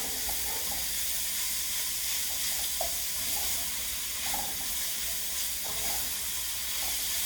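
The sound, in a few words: ground turkey cooking in a pan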